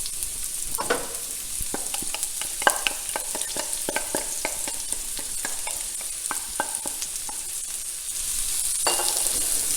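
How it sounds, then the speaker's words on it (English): Onions frying in a tablespoon of olive oil in a pan over medium-low heat: a constant close sizzle with frequent sharp stirring clicks and scrapes, growing slightly louder toward the end. "we're going to add about a tablespoon of olive oil and then add the onions"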